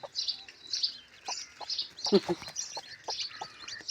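Thin, high chirps from newly hatched chicks peep in a steady scatter, fairly faint, with occasional soft clucking from the mother hen and a low voice underneath.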